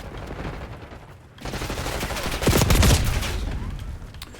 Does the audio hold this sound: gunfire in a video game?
yes